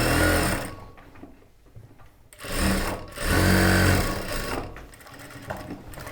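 Sewing machine stitching a churidar top along a marked shape: loud, close, whirring runs of stitching that speed up and slow down, with brief pauses between bursts.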